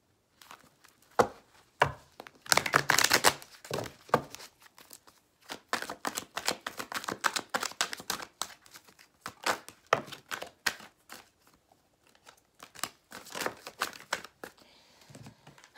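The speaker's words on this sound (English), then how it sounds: "Shuffle these cards." Tarot cards being shuffled repeatedly, with quick riffling flurries and papery slaps in uneven bursts, close and fairly soft.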